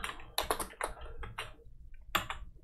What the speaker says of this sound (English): Let's just go ahead and type in Star Wars.